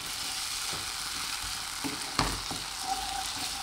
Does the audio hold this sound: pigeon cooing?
no